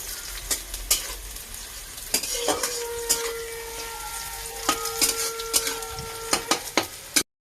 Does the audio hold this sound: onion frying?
yes